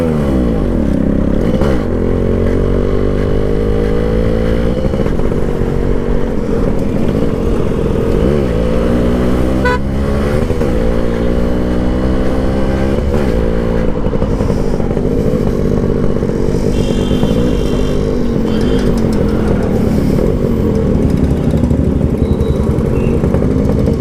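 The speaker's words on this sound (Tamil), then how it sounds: "ஸோ அது நம்ம எக்ஸாஸ்ட் இப்போ சொல்ல பாருங்க" Yamaha RX135 motorcycle with an upgraded exhaust idling and revving close by, a steady low throb rising and falling through repeated blips of the throttle with no talking.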